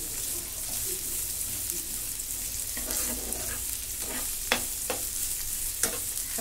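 Chopped onions frying in a pan for paneer bhurji, a steady soft sizzle with occasional stirring scrapes and clicks, no voices.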